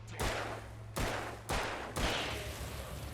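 Four heavy gunshots boom in the Alan Wake video game, spaced roughly half a second apart, each a sharp loud blast trailing into a rumbling decay that overlaps the next.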